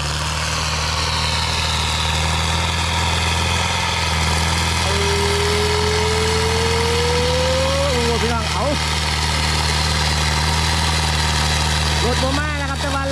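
Modified Ford 5000 Turbo tractor engine runs steadily in second gear with a constant droning hum, with a rising tone and some clattering partway through while the tractor pushes.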